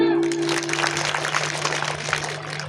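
Audience applause at an Indian school or community programme, a dense wash of clapping that fills the short stretch steadily, with a steady tonal hum running underneath.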